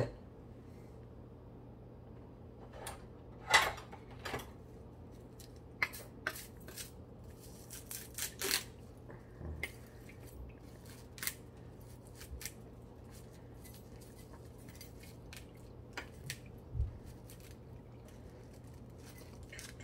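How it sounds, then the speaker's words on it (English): A coconut husk is shaved with a blade, producing scattered faint scraping and cutting clicks over a quiet room hum, with occasional louder knocks and no talking. "Let's first shave the coconut so we don't make so much mess."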